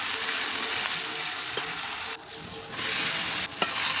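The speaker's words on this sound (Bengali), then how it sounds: "সর্ষের তেল দিয়ে ফোড়ন দিয়ে দেব, পেঁয়াজ দিয়ে ভালো করে নেড়ে চেড়ে" Onion and tomato fry in hot mustard oil, a loud, close, steady sizzle broken by scraping stirs and brief dips as the pan is worked.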